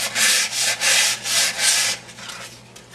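Rhythmic hand sanding on a wood countertop, steady back-and-forth rasping strokes about twice a second, close and loud, then fading to lighter rubbing.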